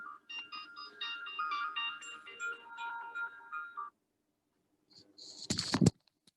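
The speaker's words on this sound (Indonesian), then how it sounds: "Bentar ya, saya ada telepon dari Dr. Dewi." A phone rings with an incoming call: a bright, melodic ringtone pattern plays for several seconds at moderate volume, stops, and then a short, sharp rustling clatter follows.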